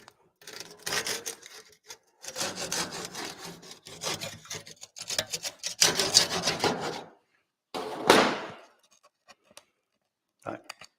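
A hand saw cutting through wood indoors, rasping back-and-forth strokes in several bursts separated by short pauses, close and fairly loud, with a final short burst near the end.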